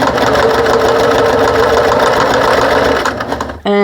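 A sewing machine stitches a lanyard with a fast, steady mechanical chatter, loud and close, that slows and stops briefly before a short burst starts up again.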